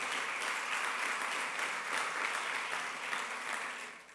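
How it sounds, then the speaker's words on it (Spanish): Church congregation applause during a Sunday Easter service, dense continuous clapping from a crowd that holds steady and then fades slightly at the end. "Dámosle un aplauso al Señor, dámosle un aplauso."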